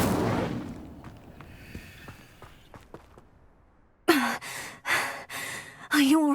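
The Incendio fire spell is cast in Hogwarts Legacy as a series of sharp, loud fiery bursts in quick succession, following a fading breathy whoosh and scattered light clicks.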